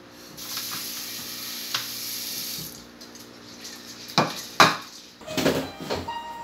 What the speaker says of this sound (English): I'm going to wash it.